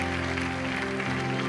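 Church congregation applauding, a steady broadband patter of many hands under sustained organ or keyboard tones throughout the short burst.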